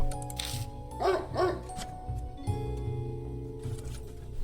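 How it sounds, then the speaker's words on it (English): A dog in the horror visual novel Spirit Hunter: NG gives a couple of short barks over a sustained musical background, moderately close but partly masked by the score. "But then the dog escalated to barking."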